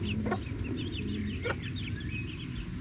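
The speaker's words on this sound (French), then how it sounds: "les petits poussins sont en liberté" Free-range chicks and hens cluck on a farm, with short clucks and chirps repeating over a steady outdoor background.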